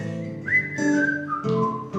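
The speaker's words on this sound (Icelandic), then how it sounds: "Getið þið flautað með mér?" Whistling of a bright, melodic tune at a singalong gathering, a few sustained and gliding notes held for about two seconds without talk.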